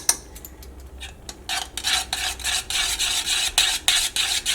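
A spoon scrapes and stirs a thick homemade ice cream mixture with vanilla essence in a bowl, close rhythmic rasping strokes growing busier after a quieter start.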